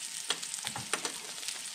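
Diced bacon frying in a pan sizzles softly with a few quick spattering crackles over a brief moment, close but fairly quiet, with no voices.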